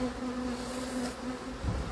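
Dense, steady buzzing of many agitated honeybees close by during a hive split, a continuous hum with no talking.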